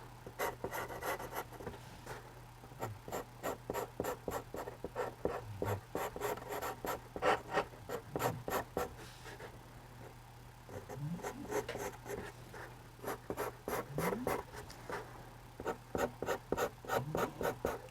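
A 2B pencil outlining a house drawing on paper: continuous, rapid scratchy strokes and rubbing in quick irregular bursts, close and clear, with no voices.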